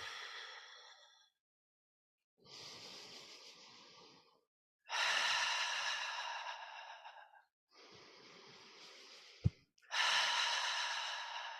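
Slow, deep breaths during a guided heart meridian meditation, long airy inhales and exhales coming in five separate waves with pauses of silence between them, close and fairly loud with no talking.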